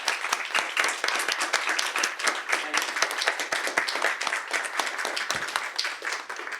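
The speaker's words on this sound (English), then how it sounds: "I want to see if we can give all of you a round of applause here." An audience at a closing panel applauds the standing students, dense continuous clapping from many hands for several seconds, fairly loud and even, with no speech over it.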